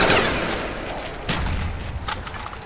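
Gunfire rings out against zombies in the Call of the Dead video game, with loud close bursts of rapid shots, a sharp crack midway and another near the end over a constant noisy roar.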